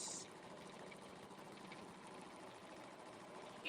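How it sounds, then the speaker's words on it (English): A sewing machine runs steadily as it stitches a zipper seam a quarter inch from the edge, a faint, continuous mechanical whir that holds for the whole stretch with no pauses. "So you're gonna just sew it like this"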